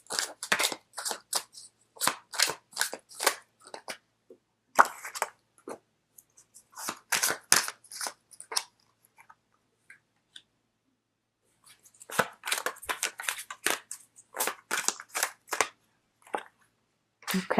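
Tarot cards being shuffled and drawn by hand, with bursts of quick riffling snaps and flicks broken by a few pauses of near silence, close and fairly crisp with no voice.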